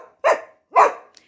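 A dog barks twice in quick succession, loud and close, in a home while someone files nails with an emery board, followed by a brief faint yip.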